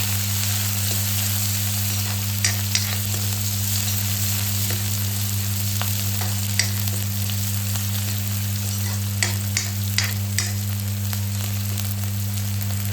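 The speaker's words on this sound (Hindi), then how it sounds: "जब जीरा अच्छे से काला पड़ जाए तो हम उसमें हरी मिर्च डालेंगे और प्याज भी डाल देंगे। फिर इसको चलाना है" Onions and green chillies frying with blackened cumin in a pan, a steady loud close sizzle with occasional pops and stirring clicks throughout, no voices.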